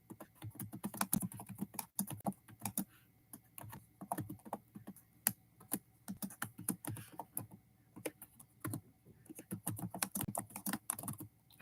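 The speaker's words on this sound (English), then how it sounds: "Let me type this in before we get started." Quiet, close clatter of typing on a computer keyboard: fast, irregular bursts of key clicks with short pauses between phrases, steady throughout.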